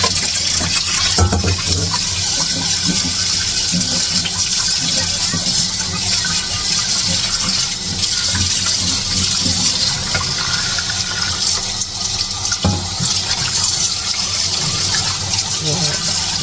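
Pork short ribs are washed under running water, a loud, steady gush from the tap that continues throughout, with a few clatters and splashes and some talking mixed in.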